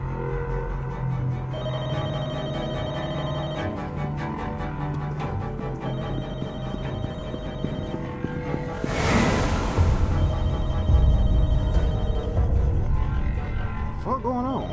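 A telephone rings repeatedly in The Walking Dead: Michonne video game, a steady electronic ringing over game music and background ambience, with a whooshing burst partway through and talk heard faintly.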